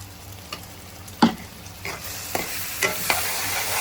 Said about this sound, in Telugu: మసాలా ఇది కూడా పచ్చివాసన పోయే వరకు వేపుకున్నాము